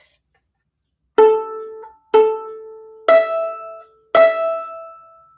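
A violin plays four separate bowed notes, two on A followed by two on E, each clear and close with brief silences between, alone without talk.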